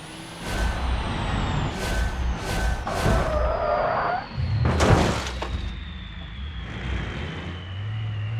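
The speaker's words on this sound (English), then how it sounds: "That's what happens when one brake locks up because of the damn brake fade" A heavy cargo truck converted into a race truck in the BeamNG.drive video game: loud bursts of air-brake hiss and rumbling engine, a sustained whine, and several heavy impacts as a brake locks up under fade.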